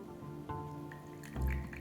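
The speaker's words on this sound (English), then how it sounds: "Okay, let's see how the pour is." Tea pours from a teapot in a short, quiet trickle with a slight dribble, ending in a louder splash into the cup.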